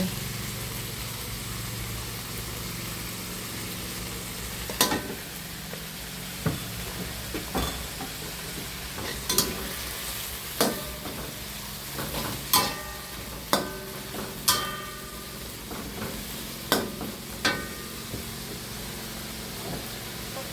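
Water morning glory stir-fried in a hot wok with oyster sauce and seasoning sauce, Thai red-fire style: a constant loud sizzle broken by sharp metal spatula clanks against the wok about once a second.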